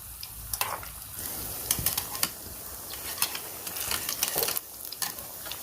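Banana bondas frying in hot oil give a steady soft sizzle with scattered crackles and pops throughout, fairly quiet and close, with no talking.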